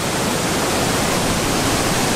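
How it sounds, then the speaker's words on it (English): A rushing river feeds a water mill at Eskdale, making a steady, dense broadband roar of flowing water throughout with no pauses or other sounds. "Through all of this rushing river"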